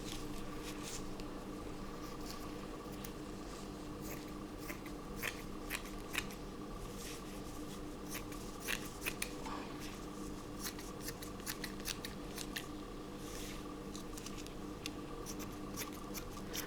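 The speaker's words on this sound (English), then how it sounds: "Now, cut a piece of lace." Steady snipping of scissors cutting a piece of lace for a junk journal, many quick close crisp cuts in an irregular rhythm against a quiet room hum.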